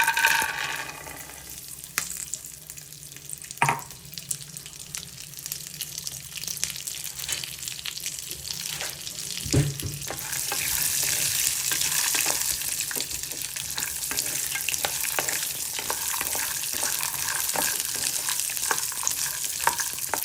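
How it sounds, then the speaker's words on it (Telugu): Peanuts fry in a couple of spoons of hot oil in a pan for a Hyderabad-style chutney, a continuous close sizzle that grows louder and brighter midway, with occasional clicks and scrapes of stirring and no voices. "ఆయిల్ హీట్ ఎక్కిన తర్వాత మనం తీసుకున్న పల్లీలు వేయించుకోవాలి"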